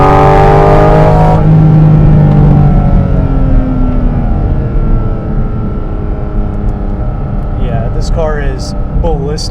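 A Porsche Cayman GT4 RS with its exhaust open accelerates hard at full throttle, its engine note climbing loud and close through rising revs, then easing into a lower steady drone as a voice speaks briefly near the end.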